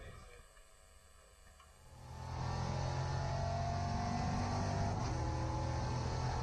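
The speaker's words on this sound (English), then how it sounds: "Now let's go for an onboard lap with the driver who won the Elite 1 race earlier on" Euro NASCAR number 48 of Racing Engineering on an onboard lap at Valencia: a quiet, muffled start gives way after about two seconds to a loud, steady engine roar that holds at high revs to the end.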